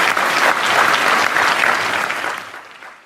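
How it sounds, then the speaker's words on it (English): Applause from a large audience at a climate change conference after a performance by young performers from Mongolia, loud dense clapping that stays full and then fades out over the last second. "Let's give them another round of applause."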